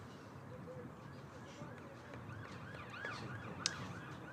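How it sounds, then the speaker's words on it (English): Faintly, a police car siren wails as it passes along a road near a county cricket ground, its rising and falling tone partly buried under crowd and road noise. "police car goes past down near the city end"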